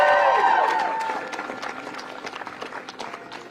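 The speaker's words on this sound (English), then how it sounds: "Let's get a round of applause for Jin" A crowd at an outdoor student walkout supporting abortion and transgender rights claps for a speaker, dense scattered applause that swells and then carries on at a moderate, steady level.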